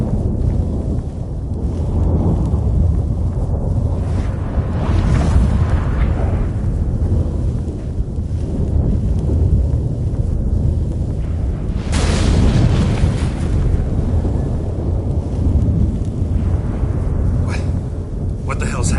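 Storm breaking out in The Witcher 3, heard as loud, sustained rumbling with booming thunder-like bursts, the biggest near the middle, under a voice speaking.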